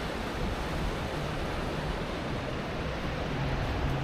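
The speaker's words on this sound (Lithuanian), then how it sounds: "Ir girdam kažkur didelis kriuklį šniokšt." A waterfall's rushing water is heard from a distance as a soft, steady, unbroken roar, with no voices over it.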